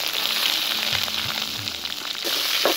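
Mustard seeds, fenugreek, fennel, curry leaves, onion and dried red chillies sizzle in hot oil as they are stirred in a pan for Sri Lankan chicken rasam, a steady close crackle with scraping stirs.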